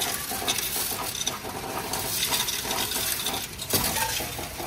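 A mix of pennies, dimes and quarters pouring into a Coinstar machine: a dense, continuous jingle and clatter of metal on metal, with brighter clinking bursts as the coins tumble and sort.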